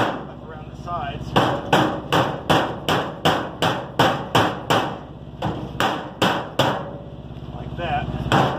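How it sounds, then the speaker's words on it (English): Metal is hammered to form it around a new axle on a garden trailer under repair: a rapid run of loud, ringing close-up blows in a steady rhythm, a brief pause, then a few more strikes. "now I'm going to form this metal up around the sides"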